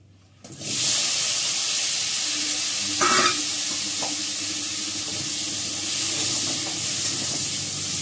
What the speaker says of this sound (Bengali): হলুদ নুনে মেখে ফেলেছি, এটা ভেজে নেব।